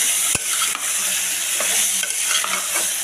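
Vegetables and broken wheat (dalia) with turmeric and salt frying in a pan, a loud continuous sizzle close by, broken by sharp scraping strokes of a spoon every second or so, with no talking.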